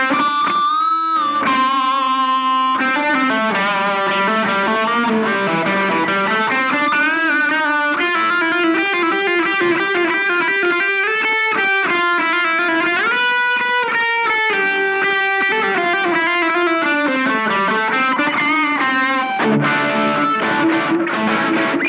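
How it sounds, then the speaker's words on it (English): Electric guitar plays a continuous melodic line through a gritty, distorted Blackstar Fly 3-watt mini amp with gain and reverb, loud and sustained with shifting notes. "So that is what this little Blackstar Fly 3-watt amplifier sounds like."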